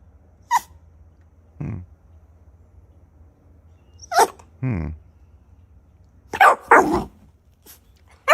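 Dogs playing indoors let out several short, separate barks and yelps at close range, spaced by quiet gaps with a low steady hum underneath.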